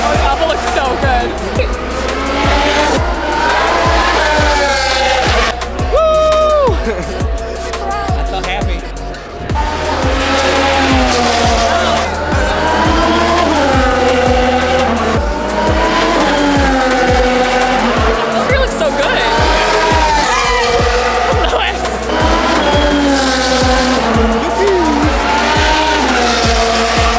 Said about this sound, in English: All right, cars on track.